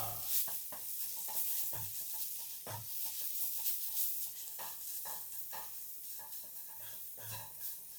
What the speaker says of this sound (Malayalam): ഒന്നോ രണ്ടോ മിനിറ്റ് ഇളക്കി കൊടുക്കാം